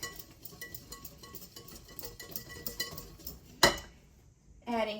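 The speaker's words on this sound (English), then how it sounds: "We're going to mix it with the whisk." A whisk rattles and clinks against a bowl while mixing flour and salt, with light rhythmic tapping that ends in a sharp clank and a short louder rattle.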